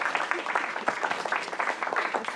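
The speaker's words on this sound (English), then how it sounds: "Another round of applause, please, for Senator Liu, please." A small crowd claps in a brief burst of applause, quick scattered hand claps at moderate volume.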